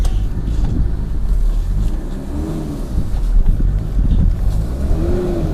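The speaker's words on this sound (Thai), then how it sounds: "เดี๋ยวเราลองกดคันเร่งดูนะครับ" A Nissan 4WD with a 2.5-litre diesel engine revs steadily as the throttle is pressed, a loud, close, continuous engine drone that rises and falls in pitch through several swells, with no talking.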